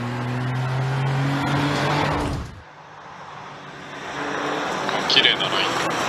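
A Toyota Yaris rally car on a gravel special stage of the TGR Rally 2024 at Shibukawa Ikaho roars loudly close by, then cuts off sharply as it passes, leaving a fainter engine receding, with voices talking over it.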